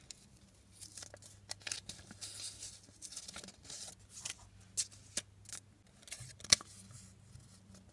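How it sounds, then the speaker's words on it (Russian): A paper surprise packet from a vending machine is torn and unwrapped up close, with bursts of crisp ripping and crinkling spread across the clip over a low steady hum, no talking. "Давайте сейчас я его распакую и передам приветик."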